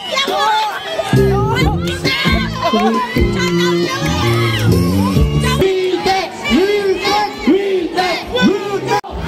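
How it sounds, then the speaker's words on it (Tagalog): A crowd at a police event shouts and cheers loudly in rising bursts of chanted, sustained voices. Whoops and yells swell up and fall back close by. "Sigawan naman, sigawan!"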